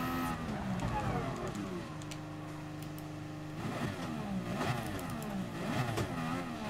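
A race car engine in Gran Turismo Sport, run without traction control, revs steadily at a standing start, its pitch holding and then climbing in surges as it accelerates, loud and continuous throughout.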